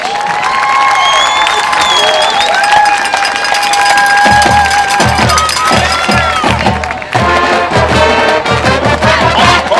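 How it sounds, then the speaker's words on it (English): A home crowd at a Friday night high school football game, Pottsboro Cardinals versus Melissa Cardinals, applauds and cheers steadily and loudly, mixed with band music that settles into a thumping beat halfway through. "Another round of applause."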